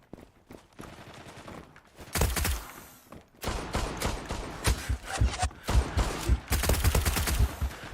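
Rapid automatic gunfire and scattered shots in the online shooter game Zula, in loud repeated bursts with brief pauses between them.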